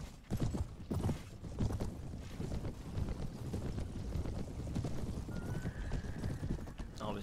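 Cavalry horses gallop in a charge in the Perisno video game, a dense, continuous clatter of hooves with a whinny near the end, loud and steady throughout.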